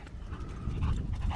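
German Shepherd panting at a prairie dog park, a steady breathy rhythm close by with a little outdoor noise, no talking.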